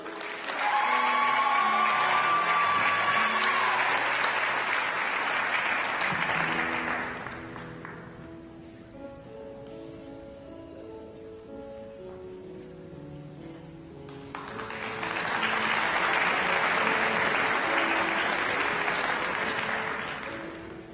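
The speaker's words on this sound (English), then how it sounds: "Let's give one more big round of applause for the 2019 dental graduates." A large audience at a dental school graduation claps in two long waves of steady applause, separated by a quieter stretch with soft music-like tones in between.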